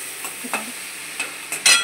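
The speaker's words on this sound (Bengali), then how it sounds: "তেলটা একটু নুনগুলো দিয়ে একটু ভাজছি" Fish frying in oil with salt, soft sizzling and brief stirring scrapes in a short burst, the sizzle flaring louder at the end.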